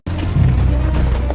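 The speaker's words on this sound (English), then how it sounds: "Explosions rock the city." Loud deep boom of an explosion in Vietnam War battle footage during the Tet Offensive in a city, one sudden heavy blast that rumbles on with a rolling low-end tail.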